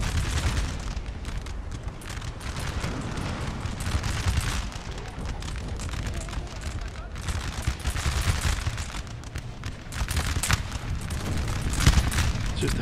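Artillery and musket fire from a Napoleon Total War battle crackle in dense, continuous volleys with heavy booms mixed in, loud and sustained from start to finish.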